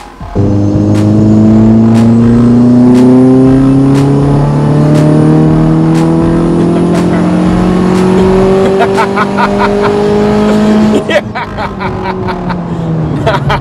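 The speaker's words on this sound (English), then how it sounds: "Not too many cars that just keep pulling and pushing you back into the seat all the way out to red line." A tuned 425 hp VW Golf accelerates hard to redline, its engine note climbing steadily in pitch for about eleven seconds, loud and close from inside, then a sharp shift and the revs drop away.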